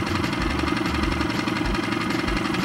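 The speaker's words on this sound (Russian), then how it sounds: "Мотор заведен у нас." A boat motor idles steadily nearby on a PVC boat, a constant low rumble with a regular knocking pulse and no voices.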